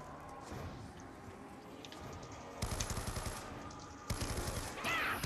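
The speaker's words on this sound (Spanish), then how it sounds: "le da un balazo al tío este" Rapid bursts of gunfire from Black Ops 2 Zombies on the Buried map, two loud automatic volleys cutting in over a low, busy game soundscape, with a high whine near the end.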